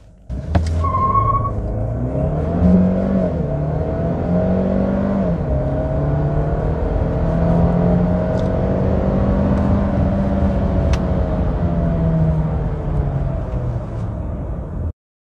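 A Mercedes-Benz A220 sedan with a 190 hp 2.0-litre inline-four petrol engine accelerates at full throttle from 0 to 100 km/h. The engine note climbs and drops through several gear shifts, steady and close, with no talk.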